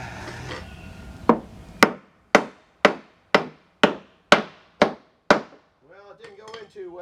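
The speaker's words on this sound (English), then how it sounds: "And that's got a nail in it. I got to get a hammer." Hammer driving a 2-inch nail into a homemade wooden box, about nine sharp, ringing blows in an even rhythm, close and loud, with a brief scrape before and a short mumble of talk after.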